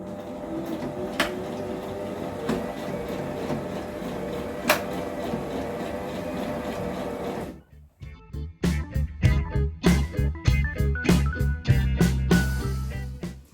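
A sewing machine hums steadily while stitching flannel, then stops and gives a run of short stuttering bursts and clicks as it stitches forward a little and reverses to backstitch, close and alone.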